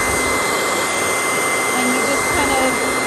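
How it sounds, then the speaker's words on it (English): A hair dryer blows warm air into bedding, a loud, steady whooshing roar that runs unbroken from start to finish, close to the listener. "using a hair dryer,"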